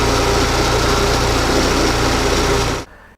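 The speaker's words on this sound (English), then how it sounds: "Why listen to me when you can listen to the engine?" An old petrol engine run with vegetable oil in place of engine oil idles loud and steady with a dense, even mechanical drone, then cuts off abruptly into near silence near the end.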